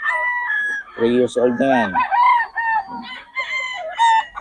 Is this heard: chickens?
yes